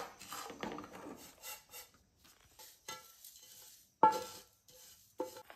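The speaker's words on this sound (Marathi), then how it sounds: "फक्त जरासं फिरून घेऊया" Wet turmeric pickle mixture stirred in a pan after the heat is turned off: quiet, intermittent scrapes and clinks of a utensil against the pan with pauses in between, with one sharper knock partway through.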